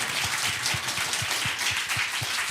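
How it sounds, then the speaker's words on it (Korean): Audience clapping for performers at a talk concert showcase, a rhythmic patter of hands with distinct claps at a steady beat, fairly close, no talking. "이분들께서 많은 응원과 박수가 필요합니다, 여러분. 박수 부탁드리겠습니다."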